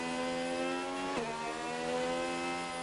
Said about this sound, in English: we'll go on board just to hear that Red Bull's engine sound